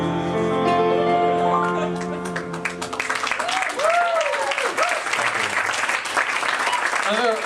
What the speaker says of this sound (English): Another round of applause for Sam